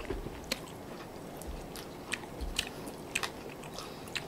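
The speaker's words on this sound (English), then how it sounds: "When she's going to eat that big octopus, I'm gonna have this one." Close, crisp chewing and biting of a spicy squid rice noodle salad, with scattered sharp crunches and wet bites over a soft background.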